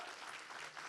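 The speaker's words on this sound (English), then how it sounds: "can we have a round of applause for what she has done to a generation" Audience applause fills the whole moment at a live conversation event, a dense, steady wash of many hands clapping, fairly loud and close, with no voices over it.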